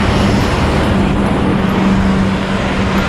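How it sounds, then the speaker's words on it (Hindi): Road traffic at nightfall heard from a roadside car stop, a steady broad rumble of passing vehicles with a low engine drone, loud and continuous. "तो आवाज़ आती होंगी गाड़ियों की।"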